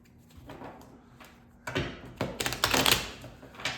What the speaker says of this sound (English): we're going to do this shuffle and 1 more shuffle